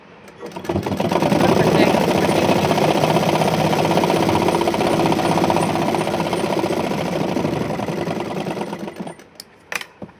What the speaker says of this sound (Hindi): इसके ऊपर 3 सिलाई हो जाएंगी।